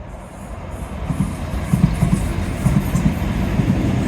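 A short train of two small carriages rumbles past at low tide by the gas works, a steady close rolling roar with faint rhythmic clicks of wheels over rail joints.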